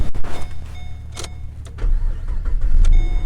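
A Chevrolet Caprice 9C1 police car engine cranks with a few starter clicks and chimes, then catches and settles into a low, rough running rumble, close and loud.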